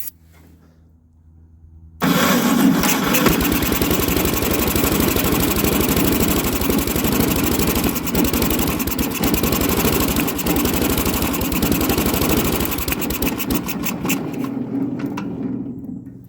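A Gravely engine with no spark or fuel supply and a likely clogged carburetor, kept running on starting fluid, catches and runs loud and steady with a rough idle, then dies away near the end.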